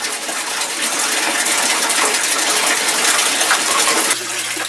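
Water rushes through aquaponic garden plumbing on a three-quarter-inch drain, a loud, continuous gushing and splashing that holds steady and then thins slightly toward the end.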